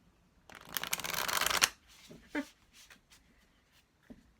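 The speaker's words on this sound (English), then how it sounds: "I'm literally shuffling how long I'm being guided to do so" Tarot decks being shuffled by hand: a sustained papery riffling burst lasting about a second, close and clear, followed by softer card handling and small taps.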